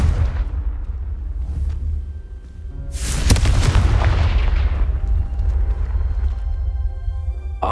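A Confringo fire spell explodes in the Hogwarts Legacy video game, a sudden loud, close blast with a sharp crack that settles into a long, heavy rumbling roar.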